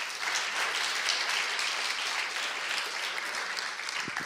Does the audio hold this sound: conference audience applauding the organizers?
yes